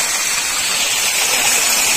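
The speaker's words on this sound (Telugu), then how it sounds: "చూడండి ఫ్రెండ్స్, మొత్తానికి వాటర్ పోతున్నాయి." After heavy rain, floodwater pours over a bridge near Hindupur in a loud, continuous roar of rushing water, close and unbroken, with no voices.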